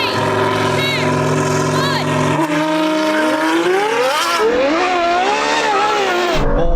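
Tuned Nissan GT-R NISMO at about 700 horsepower accelerating hard with wheel spin in a race against a Ferrari 812, a loud engine note climbing through the revs with whining pitch sweeps, with talk over it.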